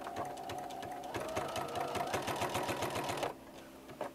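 A sewing machine runs a quick, rhythmic stitching pass across a dish towel topper, steady and fairly faint, then stops abruptly near the end.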